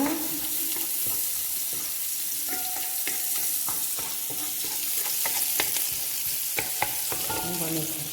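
Food sizzles steadily in a hot pan while it is stirred, with a continuous frying hiss and scattered scraping and clinking from the utensil, close and moderately loud.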